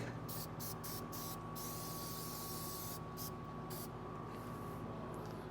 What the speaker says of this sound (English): I'm gonna spray some brake cleaner